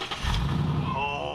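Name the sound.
Ford Mustang GT350 engine starting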